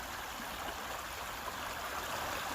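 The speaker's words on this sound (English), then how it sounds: "There's a little waterfall here." A small waterfall in a stream, near, steady broadband rushing and splashing water at even loudness throughout, with no voices.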